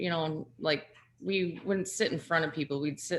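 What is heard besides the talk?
No everyday noise stands out behind the speech.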